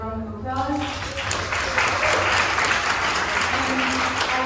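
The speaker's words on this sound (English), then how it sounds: "Another round of applause." Audience at the Future Makers 2023 finale breaks into sustained, dense applause from many hands that swells and holds, while a speaker's voice carries on over it.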